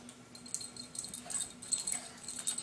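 A dog makes faint, brief whimpering and snuffling sounds close by, with a jingle like tags or keys, in a quiet indoor room.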